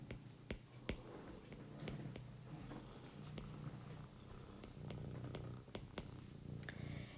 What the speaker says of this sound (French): Si vous entendez ronronner, c'est pas moi, c'est le chat qui débarque.